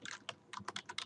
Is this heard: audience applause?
no